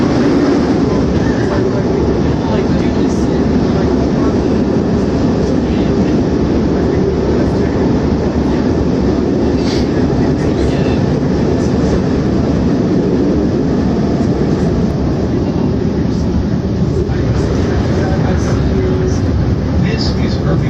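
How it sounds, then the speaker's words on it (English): Chicago CTA Blue Line subway train running downtown toward O'Hare, a loud, steady rumble with rattling wheels and car noise that fills the whole stretch, and faint voices now and then beneath it. "This is a Blue Line train to O'Hare."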